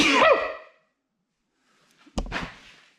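A single sneeze, close and sharp, followed by a brief pause and a soft sniff or exhale.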